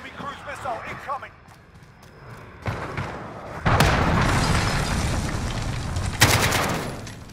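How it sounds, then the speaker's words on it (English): An enemy cruise missile blast in the shooter game Call of Duty: Modern Warfare, a sudden heavy boom followed by a long rumbling roar and a second burst near the end, with voices talking over it. "Enemy cruise missile incoming."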